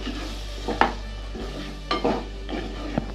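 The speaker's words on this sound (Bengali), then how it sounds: "এরপর আমরা দেবো এর মধ্যে টক দই দিয়ে আবার ভালো করে আমরা এটাকে কষিয়ে রান্না করে নেব।" Chicken korma with sour yogurt being stir-fried in a pan: a spatula scrapes and knocks several times over a soft sizzle and a constant low hum, with no voices.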